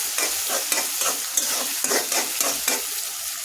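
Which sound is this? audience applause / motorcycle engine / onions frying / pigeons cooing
onions frying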